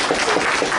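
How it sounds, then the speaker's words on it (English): Applause from an audience at a talk by a veterinarian on cancer precursors and bodily illnesses, a short, even burst of clapping at moderate volume with no voices over it. "we applaud you for that"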